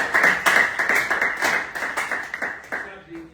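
A church congregation claps in a rapid, steady rhythm, close and lively, with voices in the room mixed in.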